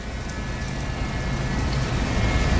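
Water refilling and repressurizing through the pipes of a home water filtration system as the supply is turned back on slowly, a steady, continuous rushing hiss that builds slightly, with no voices.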